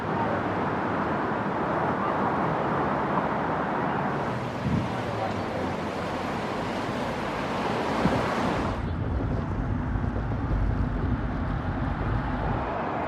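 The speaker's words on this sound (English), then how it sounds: "The ocean and inlet is relatively calm today." Calm ocean waves wash steadily at an inlet in Boiler Bay on the Pacific coast, a constant broadband surf hiss with wind buffeting the microphone throughout.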